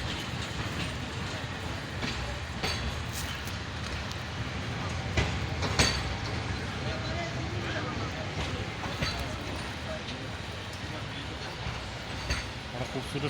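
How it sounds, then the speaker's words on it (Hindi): The Jaffar Express passenger train runs near Mach station in Balochistan, giving a steady close rumble of rolling wagons with occasional clacks and metallic knocks from the wheels. "जाफर एक्सप्रेस अभी रिटर्न हो रही है, वापस मच स्टेशन पे खड़ी होगी"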